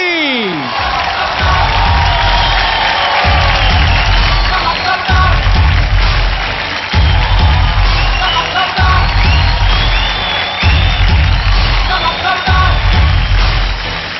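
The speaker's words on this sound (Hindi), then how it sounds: "जोरदार तालियां फॉर सोनाक्षी." A large television talent-show studio audience gives loud, sustained applause with cheering and whoops for actress Sonakshi, lasting well over ten seconds beneath a steady low musical beat.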